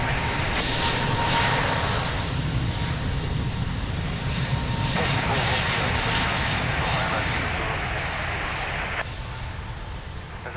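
A jet airliner taking off from runway 02 at Lisbon Airport, a loud, continuous engine roar that holds steady for about ten seconds and eases only slightly near the end.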